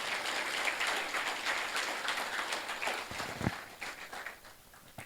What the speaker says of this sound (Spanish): ¿Cuánto le pueden dar un aplauso al Señor en esta hora?